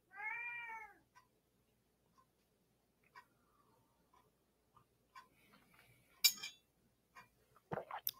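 A single clear meow near the start, followed by quiet stretches with faint clicks, small taps and a few brief noises.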